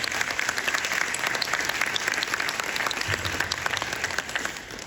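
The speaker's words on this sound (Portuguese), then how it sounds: "então aplausos é para eles." Audience at a business panel on taxes in Sorriso, Brazil, applauds the panel team with sustained, even clapping from many people, loud and close, tapering slightly at the end.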